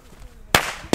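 Two sharp, loud Veko firecracker bangs burst close by in quick succession during a New Year's Eve outing, each with a brief ringing tail.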